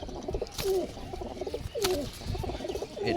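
Pigeons in a rooftop loft cooing close by, two or three rising coo calls over soft shuffling and light scuffling of birds fighting, no talk.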